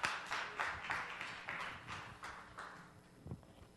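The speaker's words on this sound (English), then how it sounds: "Give God a hand clap." A church congregation clapping hands in a fairly even rhythmic beat, roughly a dozen claps fading toward the end, heard at a moderate distance in a reverberant room.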